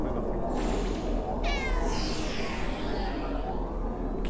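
A cat meows during a Halloween event in a video game, a single drawn-out meow heard over steady game music and background noise, with a person talking over it.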